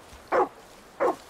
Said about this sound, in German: Der Hund bellt halt einfach nur den Wolf an.